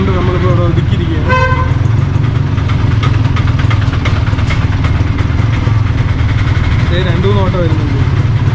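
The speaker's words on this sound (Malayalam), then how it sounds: "രണ്ടുമൂന്ന് ഓട്ടോ വരുന്നുണ്ട്." Two or three auto rickshaws passing on a busy Ajmer street in Rajasthan: continuous close engine rumble and idling, with short horn toots cutting through, while someone talks throughout.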